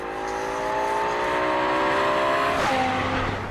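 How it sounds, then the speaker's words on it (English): A BMW M6 accelerates hard out of a corner, its engine rising steadily in pitch with a loud, close roar, then shifting gear near the end as the note drops and climbs again. "When you put your foot down, the car really pushes out of the corner."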